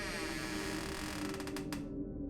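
A door creaks slowly open a crack in a dark house at night, a drawn-out strained creak over a steady low hum, with a few sharp ratcheting pulses near the end before it cuts off.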